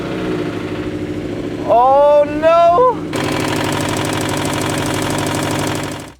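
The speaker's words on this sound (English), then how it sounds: "Rod knock." A 2015 Subaru STI engine with a spun bearing runs with a loud, rapid metallic rod knock, a steady hammering clatter throughout, briefly interrupted by a startled voice exclaiming.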